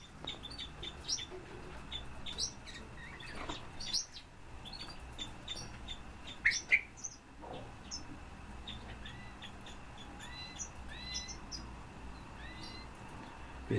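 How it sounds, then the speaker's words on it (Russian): Three captive Bohemian waxwings give high, thin trilling calls in short scattered bursts, fairly faint over a low indoor background hum. "Это свиристели."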